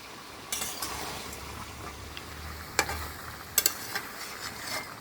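Broiler chicken meat is stirred in a small, crowded wok, giving a soft, steady sizzle broken by sharp metal scrapes and clinks of the spatula at irregular moments.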